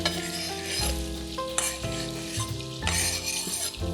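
Chopped onions sizzle and crackle in bubbling oil and butter in a pan, with spoon stirring and clinks of utensils against the pan through a steady close frying hiss.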